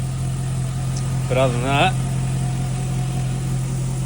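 A Holden Calais fitted with an LS engine idles with an exhaust leak, giving a steady low hum throughout while someone talks briefly over it.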